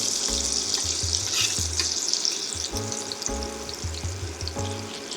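Butter sizzles and crackles loudly in a hot pan just before filet mignon steaks go in, a dense steady frying hiss with scattered pops and a few soft clinks of utensils against the pan.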